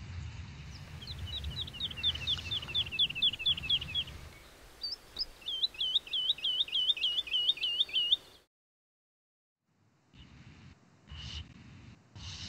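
A bird sings repeated rapid phrases of clear rising whistles, in two bursts, followed by a pause and a few faint notes.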